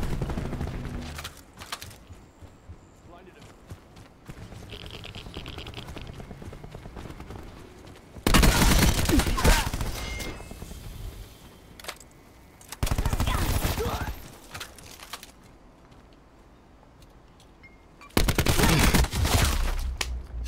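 Bursts of automatic gunfire in the online shooter Call of Duty: Black Ops 4, three loud sustained volleys separated by quieter stretches of game ambience and footsteps.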